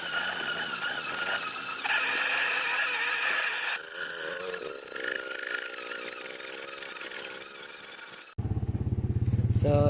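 Power drill boring a hole through an oil filter with a drill bit, a steady high whining, grinding drone at close range that shifts pitch midway, then cuts off into a lower buzzing tone.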